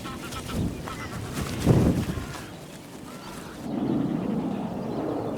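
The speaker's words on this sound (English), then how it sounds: "a couple of geese fly overhead" A couple of geese honk as they fly overhead in open countryside in Northern Ireland, calls rising and fading at moderate distance over steady outdoor background noise.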